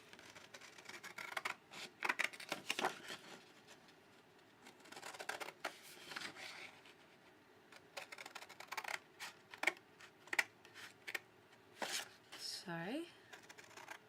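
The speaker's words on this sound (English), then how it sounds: "I really shouldn't be cutting it with my scissors" Scissors snip through a cut-apart sheet of paper in a craft project, producing faint, quiet crisp cutting sounds in an irregular sequence of short clicks and slices, with a brief rising squeak near the end.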